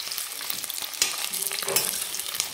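Potatoes fry in hot oil for Kashmiri dum aloo, giving a crackling sizzle with brief stirring scrapes and clicks, fairly quiet and close, with no talking.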